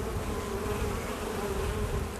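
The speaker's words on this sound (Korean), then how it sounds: "일몰이 돼야만 꿀벌들이 밖에서 이사가 들어옵니다" Honeybees buzz around their hives at sunset, making a dense, continuous hum with no pauses and no voices.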